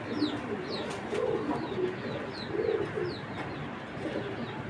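A female racing pigeon coos in soft, repeated throaty rolls at close range, with faint chirps of other birds around it and no speech.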